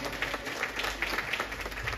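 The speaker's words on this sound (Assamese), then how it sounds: "পুনৰ হাত চাপৰি" An audience at a reunion gathering gives a round of applause, with steady, moderately loud crowd clapping running throughout and individual claps standing out from the mass.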